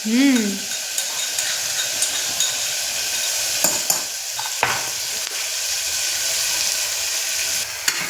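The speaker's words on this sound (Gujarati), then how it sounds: "મમ્મી હવે લસણ નાખી રહી છે. લસણ ને ટમેટાની પેસ્ટ." Garlic paste sizzles and fries steadily in a hot pan in a home kitchen, a loud continuous hiss with occasional stirring clinks and scrapes, and a brief voice near the start.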